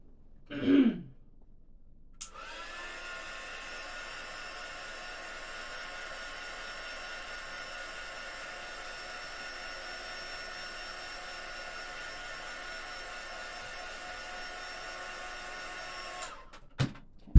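A hair dryer blows a steady, even whir for about fourteen seconds to dry freshly painted zipper charms, switched on after a throat clearing and cut off near the end.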